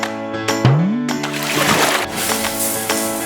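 A shower sprays green-dyed water during a prank, a steady hissing splash that rises and continues under a bright tonal, musical sound with a gliding pitch sweep.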